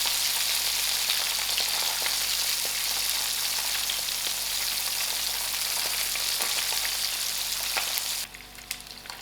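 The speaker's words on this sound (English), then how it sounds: "Because I have so few pieces of the fish, so I'm going to fry little at a time." Masala-coated fish pieces fry a few at a time in hot oil, giving a steady, close, dense sizzle that runs nearly unbroken before dropping away abruptly near the end; nobody talks.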